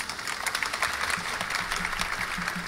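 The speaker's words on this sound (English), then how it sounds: "Please, a little applause" Audience applauding for a student at an educational music event, light scattered clapping at moderate distance, fairly quiet and steady.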